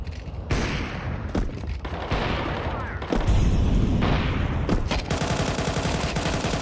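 Gunfire in Counter-Strike 2 during a competitive match: loud bursts of shots, several rapid volleys and a heavy sustained stretch near the end, with Portuguese-speaking players talking over the action.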